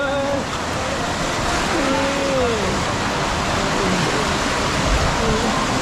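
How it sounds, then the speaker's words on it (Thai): Artificial waves rolling through a wave pool at a Vana Nava water park in Hua Hin, a steady broadband wash of water with distant excited voices of swimmers underneath throughout. "นี่ตอนนี้เราถึงทะเลเทียมแล้วครับ"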